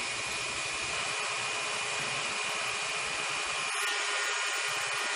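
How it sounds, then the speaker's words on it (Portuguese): A saw cuts slowly and steadily through a cutting die on a Copérnica die-making machine, giving a continuous bright, hissing grind that stays even throughout with no talk. "Serrando o primeiro troquel."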